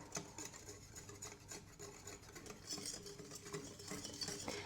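Flour and warm milk being stirred into a soft batter for cinnamon rolls, a quiet continuous scraping and swishing of a utensil in a bowl with no talking.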